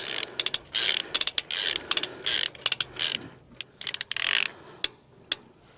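A socket ratchet winds a fence wire tensioner with quick bursts of clicking, close and crisp, in repeated strokes with brief pauses and a few single clicks at the end.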